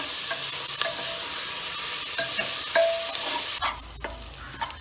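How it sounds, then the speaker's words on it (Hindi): Sliced onions fry in hot oil for a vegetarian Indian dish, a steady bright sizzle with intermittent scraping and clinks from a stirring spoon against the pan, close and fairly loud, no talking. "प्याज को अच्छी तरह भून लें।"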